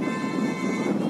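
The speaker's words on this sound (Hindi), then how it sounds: "आपको सुनाई दे रहा होगा हवा कितनी तेज चल रही है।" Strong wind gusting at a dam reservoir, a steady broadband rush with constant low buffeting noise throughout, loud and close to the microphone, with no voices.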